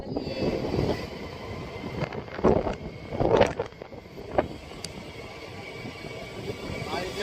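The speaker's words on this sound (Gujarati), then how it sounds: "બહુ મસ્ત પવન આવી રહ્યો છે, પાછળ દરિયો છે" Sea wind gusts and buffets a handheld microphone on a shore, rumbling steadily with a few louder bursts, while people chat nearby.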